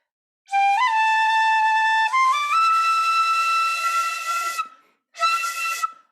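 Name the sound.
shinobue flute played with poor tone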